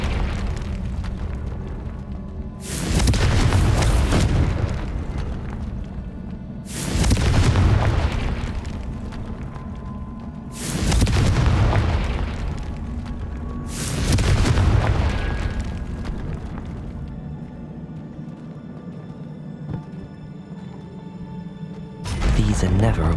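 Confringo spell explosions in the Hogwarts Legacy video game: four heavy, booming blasts land roughly every four seconds, each swelling then fading, with another beginning at the very end, loud and close.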